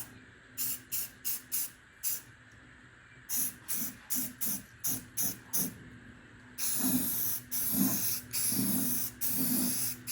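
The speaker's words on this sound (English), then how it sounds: "So here goes the first coat on the top." Bursts of aerosol spray paint go onto the top of a jazz guitar kit body as a first light dusting coat: about a dozen short hissing passes, then a longer, louder continuous hiss with pulsing strokes, up close, no talking.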